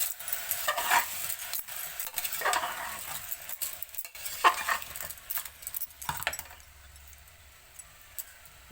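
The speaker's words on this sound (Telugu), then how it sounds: "వేసి శుభ్రం కలుపుకుంటామండి" Green gram (moong) being stirred in a pan, giving repeated scraping and clinking strokes of a utensil against the pan with faint sizzling, fairly close, with no talk.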